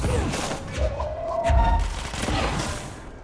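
Gunfire bursts and booms from the video game Control, fairly loud and close, a few thumping shots over a rumbling game soundscape.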